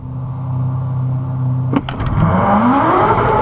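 A car launches hard in a drag race with its tires spinning: a steady engine drone breaks into a sharp rising roar, loud and close, as the car pulls away.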